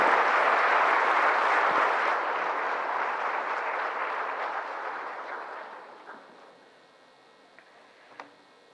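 A large audience at the National Teachers Awards ceremony for President Droupadi Murmu claps loudly at first, then the applause slowly thins and fades over several seconds to a few scattered claps.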